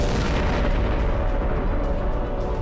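Deep rumbling explosion effect for a big bang depiction in a space documentary, a loud sustained roar filling the low end without letup.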